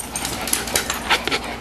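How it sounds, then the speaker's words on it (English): A small puppy pants in quick, breathy bursts close to the listener, with a few soft whimpers mixed in, all over a steady background hiss. "You like that puppy?"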